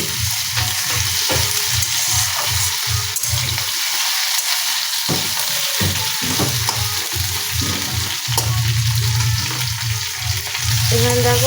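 Potatoes fry in oil over a gas flame turned to full for a vegetarian paneer curry, loud close sizzling with rhythmic stirring scrapes, a short quieter gap, then renewed bubbling crackle.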